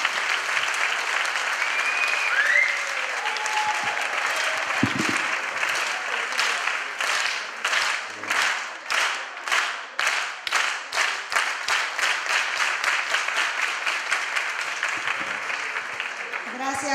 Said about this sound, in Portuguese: Otro aplauso, porque se lo merece.